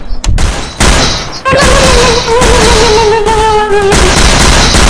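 Gunfire in the Garry's Mod DarkRP video game: loud close bursts of rapid shots that blend into a near-continuous barrage, with a tonal whine running through the middle and no talking.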